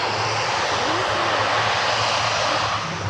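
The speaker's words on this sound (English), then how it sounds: "Now that is a very, very short landing run and into reverse." Aircraft engines roaring steadily in reverse thrust after a very short landing run at the Farnborough Airshow 2024, a loud continuous broadband rush close by with a low droning hum underneath.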